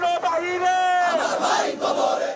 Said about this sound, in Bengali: ঢাকা বিশ্ববিদ্যালয়ের শিক্ষার্থী ও ছাত্রদল নেতা শাহরিয়ার আলম সাম্য হত্যার বিচার দাবিতে স্লোগানে উত্তাল ঢাকা বিশ্ববিদ্যালয় ক্যাম্পাস